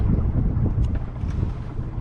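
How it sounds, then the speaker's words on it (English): A fishing boat idles back toward the ramp on open water, a steady low engine rumble mixed with wind buffeting the microphone, with no talking. "we're idling back to the ramp here"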